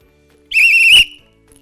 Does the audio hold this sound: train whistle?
yes